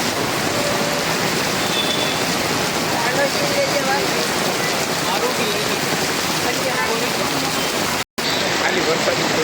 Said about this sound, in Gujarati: ખાલી વરસાદ